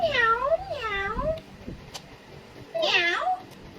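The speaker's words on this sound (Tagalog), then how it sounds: "What's that? A cat." A cat meows three times, drawn-out rising and falling cries, loud and close, with a short pause before the last one.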